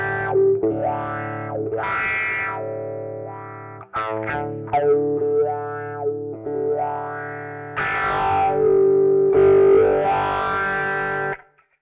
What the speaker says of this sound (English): Pedal wah, what's the wah like?